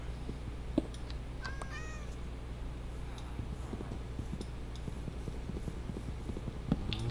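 A cat meows in the video game Minecraft, a few short, faint mewing calls rising over a steady low game hum, with scattered small clicks and taps in the background.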